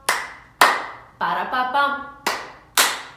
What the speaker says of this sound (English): get your hands ready to clap